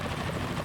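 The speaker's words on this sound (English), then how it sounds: "Is that a chopper I just heard?" A helicopter in the Metal Gear Solid 2 video game thrums steadily and loudly in a short burst of continuous rotor noise, with no one speaking.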